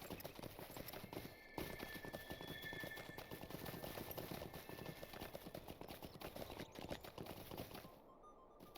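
Horse hooves clip-clop in a steady, rapid rhythm throughout, a close and continuous trotting beat in the game Lord of the Rings Online during a summer festival quest, with no speech.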